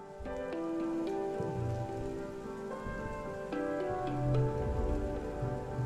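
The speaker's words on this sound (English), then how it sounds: "It's still raining, Mars complains." Rain in the video game I Was a Teenage Exocolonist, a steady patter of drops on a surface heard beneath sustained tonal game music, with no voices.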